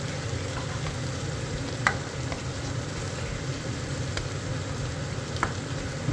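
Beaten eggs go into a pan of soft frying eggplant cooked in a little oil, giving a steady, close, even sizzle with faint scraping clicks from stirring and no voices.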